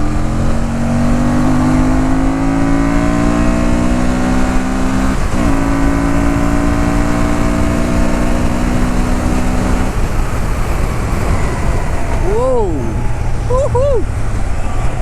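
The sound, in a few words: Honda Transalp 750 twin-cylinder motorcycle engine revving to red line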